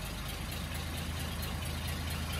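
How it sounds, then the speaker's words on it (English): An old limousine engine, abandoned for 32 years and now running off its tank, idles steadily on its own with a low, even rumble and no voices. "That's just idling all on its own now"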